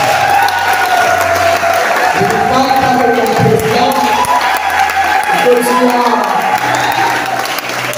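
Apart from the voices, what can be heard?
applause and cheering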